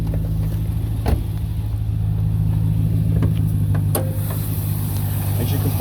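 Idling 5.7-litre LS6 V8 of a 2004 Cadillac CTS-V, heard with the hood up: a steady low rumble that holds level throughout, with a few faint clicks and a voice talking briefly over it.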